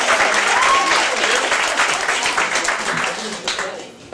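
Enthusiastic audience applause greets a comedian taking the stage at a comedy club, a loud, dense wash of clapping that holds steady and tapers slightly near the end.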